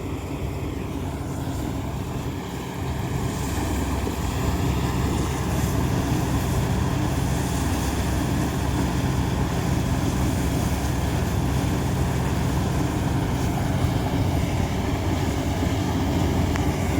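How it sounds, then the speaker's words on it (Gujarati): A tractor drives up through a groundnut field during the harvest, its steady engine drone loud and close and continuous throughout, swelling slightly after the opening seconds and holding a constant throbbing tone. "ટ્રેક્ટર લઈને આવે છે."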